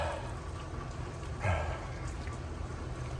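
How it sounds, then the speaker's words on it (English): Steady rain falls outdoors during a long road run, a constant broadband hiss of drops with one brief louder patter midway, no voices heard. "It's still raining"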